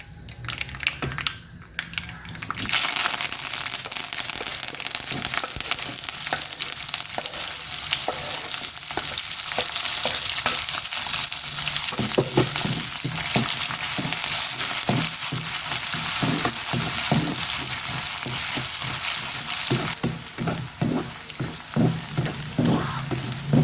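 Mustard seeds and chopped large onion frying in hot oil with curry leaves for a beans cabbage poriyal, a loud continuous sizzle with crackling pops and stirring scrapes, close by and without talk.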